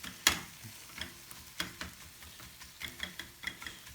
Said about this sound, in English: now we're just going to add the egg to it